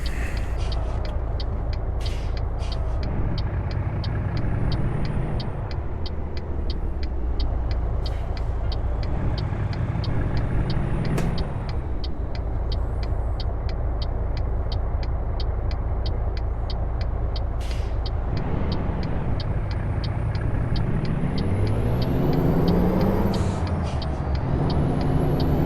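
A Kenworth W900 truck engine in American Truck Simulator drones steadily and loudly throughout, with hissing air brakes, rising and falling revs and gear changes, and no talk over it.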